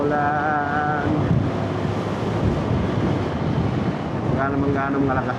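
Heavy rain captured on a DJI Osmo 360 camera during a drive home, heard as a dense, steady roar of water and wind that fills the whole clip, with voices talking briefly at the start and end.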